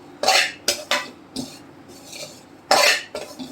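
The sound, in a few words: stirring dry dates (kharik) roasting in ghee in a pan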